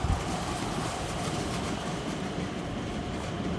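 A steady, heavy rumble of a Rotterdam metro train rolling past nearby, with a dense rattling roar that holds throughout.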